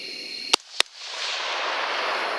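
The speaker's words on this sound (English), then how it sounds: "Shoot him, Guffy, if you got him" Two sharp rifle gunshots a fraction of a second apart during a night coyote hunt with thermal scopes, loud and close, followed by a rising hiss of outdoor noise.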